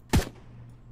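A single sharp gunshot from the zombie survival video game SurrounDEAD, a loud close crack with a brief tail fading into a low hum, no talk.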